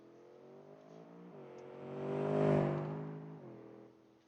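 A turbocharged car revs hard for a launch, the engine note climbing to a loud peak and falling away, with distinct gear-like steps in pitch, heard close and alone.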